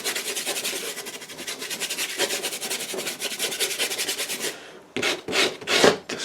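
A paintbrush scrapes rhythmically back and forth over rough MDF board coated in PVA glue, producing a dry, raspy rubbing close up.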